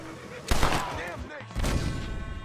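A single loud gunshot bursts out in a Red Dead Redemption Western shootout, followed by a second blast about a second later, with voices talking over and around the shots.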